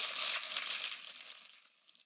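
Paper wrapper torn off a 2015 Bowman Draft baseball card pack, a close, crisp crinkling rip that is loudest at the start and fades out over about two seconds.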